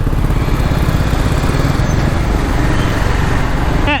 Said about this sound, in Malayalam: ഒരു രക്ഷയില്ലാത്ത എക്സോസ് നോട്ടാണ് കേട്ടോ